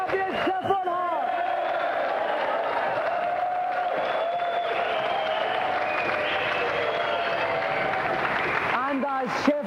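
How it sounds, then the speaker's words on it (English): A television game show studio audience applauds and cheers for the champion. The clapping is steady and sustained, with an excited voice speaking over it near the start and end. "now a round of applause for our champion, Chevron Hart"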